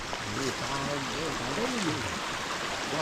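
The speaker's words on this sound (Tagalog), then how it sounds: "Ayan ho ang ilog." A river flows beside a lansones farm in Laurel, Sta. Maria, Laguna, a steady rushing outdoor wash with people talking over it.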